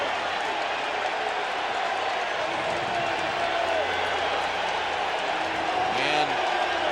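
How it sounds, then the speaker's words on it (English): A large baseball stadium crowd at a 1998 Houston versus San Francisco MLB game roars and applauds in a sustained, dense wash of cheering, with a broadcast announcer talking over it. "And listen to this crowd as Bonds will walk up"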